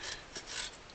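Sandpaper rasps wax off the bass-side reeds of a Scarlatti 24-bass accordion in a few quick, close, bright scratching strokes.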